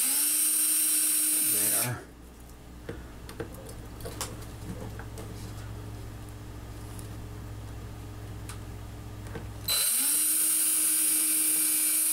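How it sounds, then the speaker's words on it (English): A power drill boring a hole with a drill bit, a loud whining burst at the start and another at the end with quieter handling noise between, and a brief spoken word. "We're going to put a hole about that big there."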